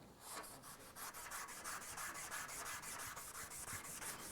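A Scotch-Brite pad scrubs metal before TIG welding, giving steady, close rhythmic rubbing strokes, about four to five per second, with no other sounds.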